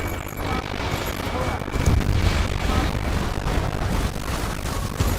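Booming explosions and rumbling gunfire from a night air battle over a city under martial law in the video game Ace Combat 7, a dense, continuous roar of blasts and bursts with no clear gaps.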